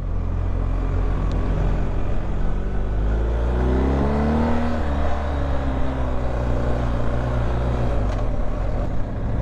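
A BMW R1250 GS HP motorcycle rides on an organised outing, its engine drone and wind rush steady and loud, with the pitch rising and falling through shifts midway.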